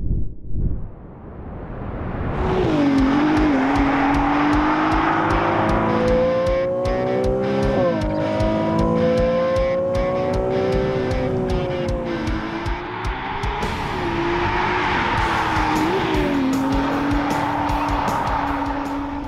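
A Ferrari 296 GTB's engine roars loudly and steadily while driving, its pitch rising and dipping through gear changes, with tyre squeal and rapid popping bursts layered over the sustained close-up drone.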